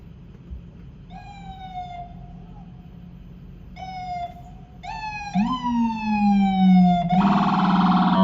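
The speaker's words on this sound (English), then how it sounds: "Follow the ambulance." Ambulance siren on a New York City street, its wailing tones rising and falling in several bursts that grow louder and closer toward the end, over steady traffic rumble.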